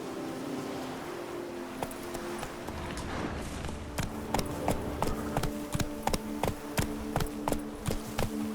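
Horse hooves pounding at a gallop in The Witcher 3, a steady rhythmic thudding of hoofbeats that gets sharper and more regular in the second half, over a constant background wash.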